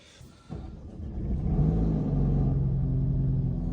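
Tuned 700 bhp Audi RS4 with Milltek exhaust fires up from cold: a click, a sudden rising roar, then a loud, deep, steady high idle that rumbles on undisturbed.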